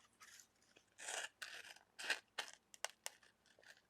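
Scissors snipping paper for a calendar page, close and quiet: short, irregular cuts and rustles in quick succession, with brief pauses between snips.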